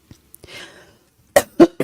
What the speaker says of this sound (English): this cough trying to creep up on me